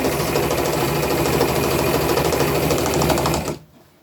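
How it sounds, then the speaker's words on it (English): A sewing machine runs steadily and loudly, stitching a gather along a men's shirt. The motor hums without a break for about three and a half seconds, then stops abruptly. "And then we'll just sew all the way."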